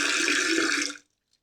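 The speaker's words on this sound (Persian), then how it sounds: "اندازه آب بریزید که خمیرتون معلوم نباشه." Water poured into a pot of bread dough, a steady rushing splash that cuts off abruptly after about a second, then silence.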